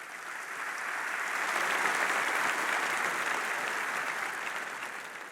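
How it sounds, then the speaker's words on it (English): Steady applause from a keynote audience fills the room, swelling a little and then holding at an even level, dense and continuous with no voices over it. "How about a round of applause for Jackie and Seth?"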